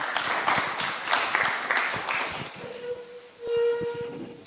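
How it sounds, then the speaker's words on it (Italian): A small round of audience applause at a public meeting in Macomer, Sardinia, welcoming Professor Melis: brisk clapping that fades after a couple of seconds, followed by a sustained electronic tone like microphone feedback. "che accoglierei anche con un piccolo applauso per il lavoro che ha fatto"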